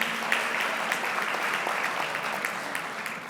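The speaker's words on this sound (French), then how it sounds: "Ça aussi, ça mérite applaudissements." An audience at a gala honouring entrepreneurs breaks into continuous applause, a steady wash of many clapping hands with a few sharper claps standing out.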